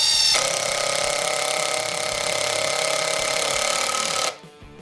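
RIDGID Gen5X R86035 impact driver in speed mode 2 drives a fastener with a loud, steady, high-pitched hammering whine lasting about four seconds, then cuts off abruptly.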